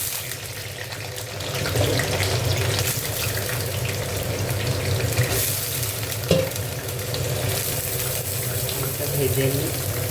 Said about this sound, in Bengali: দেখো এখানে আলুটা ভেজে নেবো